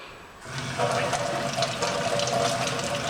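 Tap water runs steadily into a sink while a doll is rinsed off, a continuous close splashing flow that starts after a brief quiet moment and holds at a strong, even level.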